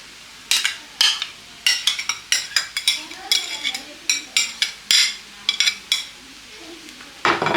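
Chow mein with egg and chicken is stirred in a pan, producing a rapid run of metallic scrapes and clinks with brief pauses, fairly close, with a faint voice in the background.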